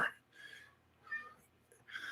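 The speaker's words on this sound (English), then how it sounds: "my cat that's conveniently showed up and howling" A pet cat howls at a door to be let out, giving three faint, drawn-out meows spaced apart in a quiet room, well behind everything else.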